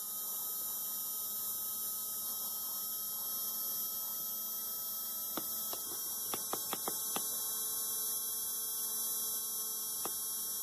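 An electric motor runs under pulse width modulation, giving a faint steady electrical hum and high whine throughout, with a few brief faint clicks near the middle.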